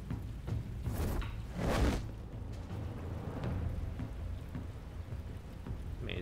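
Rain pours in Batman: The Telltale Series, a steady hiss of falling water with a couple of loud swelling whooshes or thunder rumbles early on, continuing evenly afterward.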